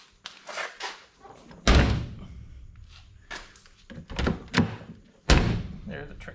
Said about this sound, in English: Watch how good this door closes.